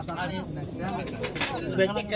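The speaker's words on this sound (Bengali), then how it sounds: "আর একটি দেশি গিরিবাজ লাইনের কবুতর আছে খুব সুন্দর কবুতরটা" Pigeons coo at the busy Beldanga pigeon market, where native Giribaz-line birds are on sale. Soft, throaty cooing sits close by under a person's talking and general market bustle.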